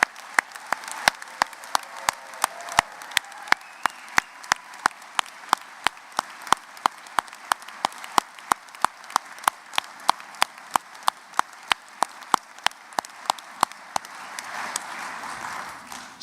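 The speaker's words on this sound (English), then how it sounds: "If everybody could join me in giving a round of applause for them." A concert-hall audience at a university graduate commencement keeps up a long, steady round of applause for the graduating students, dense and sustained, tapering slightly near the end.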